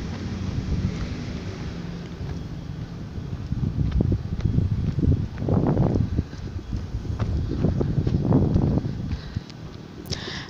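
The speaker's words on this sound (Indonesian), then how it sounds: "itu suara angin. Ini di sini anginnya lumayan kencang nih" Strong gusty wind buffets the microphone at an outdoor road construction site among heaps of earth, a steady low roar swelling and easing in waves throughout, with no voices.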